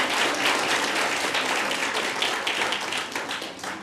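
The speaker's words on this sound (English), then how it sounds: "Sorry, there's too much cheering for me to hear you." An audience at a school board meeting cheers and applauds loudly, a dense, steady wash of clapping and shouts filling the whole stretch, fading slightly toward the end.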